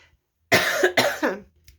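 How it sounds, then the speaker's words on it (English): Two harsh, close coughs in quick succession, loud and raspy, in an otherwise quiet room. "Excuse my cough today."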